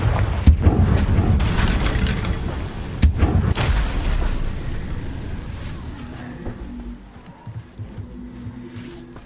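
Confringo fire-blasting spell explosions in Hogwarts Legacy: a few heavy, booming blasts and sharp cracks up close, followed by a rumbling tail that gradually fades toward quieter game ambience.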